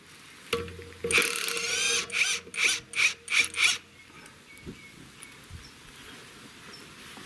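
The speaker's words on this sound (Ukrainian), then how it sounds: "Тут у нас ліва різьба просто болт на 19, але різьба ліва." A ratchet wrench undoes a left-hand-thread 19 mm bolt on the hub of a rotary mower under repair, clicking in a string of about six rhythmic bursts after an initial loud rasp, close, then fading to faint handling noises.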